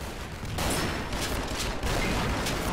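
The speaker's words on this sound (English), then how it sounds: "He was shooting at me in midair." Gunfire in the video game Double Action Boogaloo, a dense, noisy spray of shots from about half a second in, holding loud and steady with a brief dip near the two-second mark.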